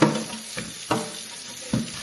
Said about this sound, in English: And I'm going to scrub one more time.